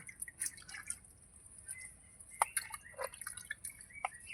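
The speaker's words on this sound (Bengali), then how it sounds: "এই জন্য মুলো ধুচ্ছি এখন বসে বসে" Radishes being washed by hand in a tub of water, with scattered small drips and splashes of water falling irregularly, close and fairly quiet against a soft background hiss.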